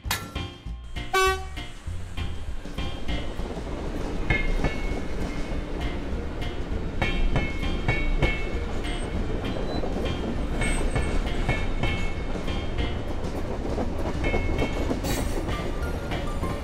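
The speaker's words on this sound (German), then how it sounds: "Nun kann der Zug zurück zum Tanklager fahren" An animated train running on rails, with a sharp horn blast near the start followed by a steady rolling rumble and rhythmic clickety-clack of the wheels.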